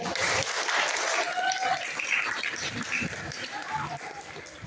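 Audience applause for a good question at a school orientation talk on cigarettes and drugs, with dense, sustained clapping from a hall full of students and scattered voices mixed in.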